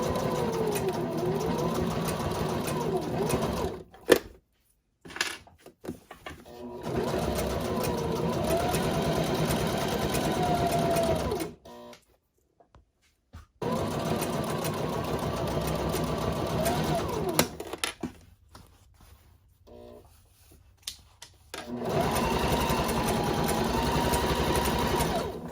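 Sewing machine stitching a crossbody bag, close steady whirring runs in several bursts separated by pauses, with someone talking in between.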